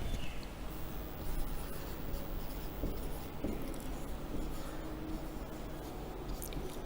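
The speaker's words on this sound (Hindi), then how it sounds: "मैं यहाँ पे एक नोट लिखता हूँ" Pen scratching steadily across paper as a note is written by hand, a soft continuous scribbling close up over a low background hum, with no voices.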